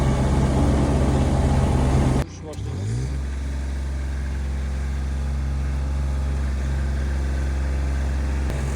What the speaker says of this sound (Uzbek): Start bosiladi. Motori maksimumga qo'yiladi. Bu vibratsiya.